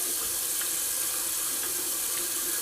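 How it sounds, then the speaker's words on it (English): Cold tap water running into a bathroom sink for a quick rinse after a shave; a steady, loud, close hiss of flowing water with faint splashes and no talking. "That was just a quick cold water rinse."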